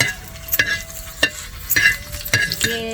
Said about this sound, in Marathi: जरा धने मिरच्या भाजून घेते